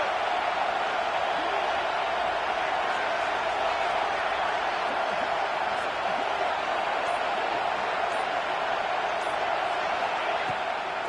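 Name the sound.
stadium crowd cheering for the defense at a college football game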